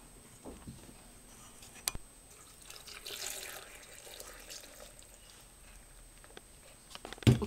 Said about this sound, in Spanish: Vamos a echar una nadita de agua hervida.